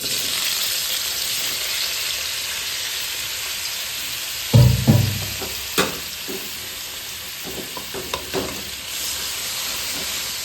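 Washed mushrooms drop into hot coconut oil in a pan for curry, setting off a sudden loud sizzle that settles into softer frying crackles and a few stirring scrapes.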